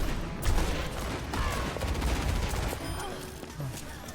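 In Overwatch 2, Cassidy fires a rapid run of gunshots that sound like a fusillade. The game action is busy and fairly loud, and a voice talks over part of it.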